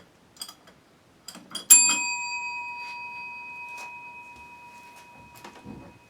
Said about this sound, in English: I'm about to ring this bell.